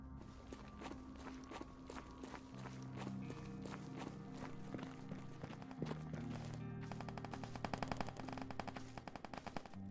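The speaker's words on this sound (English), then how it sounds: "that sounds like a gunshot's up in the direction I'm looking at right now" Gunfire from a firefight in the survival shooter game Stalker GAMMA, with rapid bursts of sharp shots cracking repeatedly across the whole stretch over a dense, busy background of game ambience and movement.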